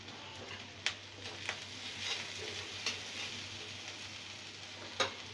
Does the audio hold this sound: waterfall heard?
no